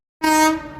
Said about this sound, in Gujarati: એકવાર ટ્રેન આવી ભાઈ.